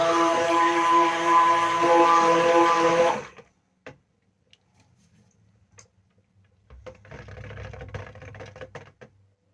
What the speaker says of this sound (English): Time to test out my brand new stick blender.